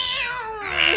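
A human voice mimics fighting cats with a short, strained, wavering yowl that rises into a higher screech, about one second long and close to the microphone.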